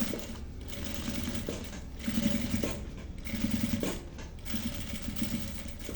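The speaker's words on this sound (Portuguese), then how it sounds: "E vou iniciar costurando aqui um pezinho de máquina nessa borda, ó." Sewing machine stitching a presser-foot seam along the fabric edge of a boxy zippered cosmetic bag, a steady close mechanical whir running in several short bursts with brief pauses between them.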